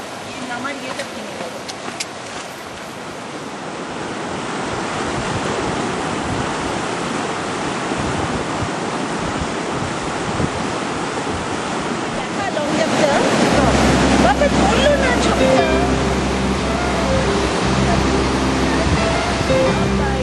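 Mountain river in Kinnaur valley, Himachal, rushing steadily below as a continuous broadband roar of flowing water, growing fuller and louder partway through, with wind buffeting the microphone.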